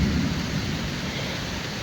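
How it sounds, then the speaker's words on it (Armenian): Thunderstorm with heavy rain, a dense continuous downpour roar with a low rumbling of thunder underneath, loud and steady throughout. "անձրևը գալիս է"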